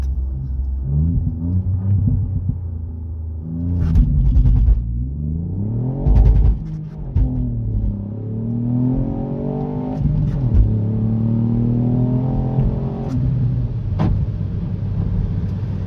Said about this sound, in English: we're just going to rev it up some and floor it.